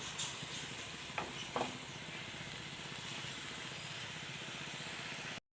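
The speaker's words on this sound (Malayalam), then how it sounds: "വിനാഗിരി ഒന്ന് തിളച്ച് വരുമ്പോൾ നമുക്ക് തീ ഓഫ് ചെയ്ത് കൊടുക്കാം." Vinegar comes to a boil in a pan of bird's eye chili pickle, giving a soft, steady hiss and sizzle with a couple of faint clinks near the start before it cuts off.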